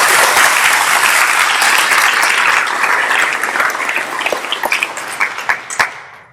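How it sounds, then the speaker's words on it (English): A crowd in a high school awards ceremony hall applauds the coaching staff, with loud dense clapping that holds steady and then thins into scattered separate claps before fading out. "our coaching staffs, as well as Mrs. Kehoe, a round of applause for all of them."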